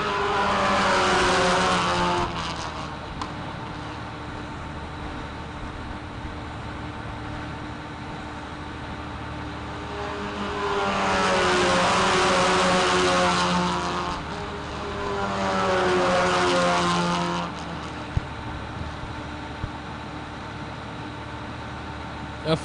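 Race cars in the Indian National Car Racing Championship roar past in waves, engines rising and falling as they approach and fade, with loud passes near the start and middle and quieter running in between.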